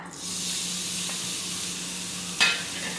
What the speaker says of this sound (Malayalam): നെയ്യ് ചൂടാകുമ്പോൾ ഇതിലേക്ക് ഒരു ബീട്രൂട്ടിൽ നിന്ന് കാൽ ഭാഗം എടുത്ത് ചീവി വെച്ചേക്കുന്നതാണ് കേട്ടോ അത് പാനിലേക്ക് ഇടാം